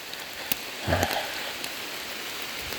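Rain falls before dawn on a mountain path as a monk walks out for alms, a steady, even hiss of rainfall with a few faint thuds and taps, and no voices.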